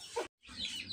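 Hen clucking outdoors while let out to roam and feed, a short cluck then a brief pause and a further burst of clucks, fairly faint and near, with no talk.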